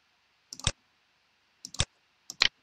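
Three crisp computer mouse clicks, each a quick double tick, spaced about a second apart while nodes are edited in design software for a laser-cut brooch, with no talking.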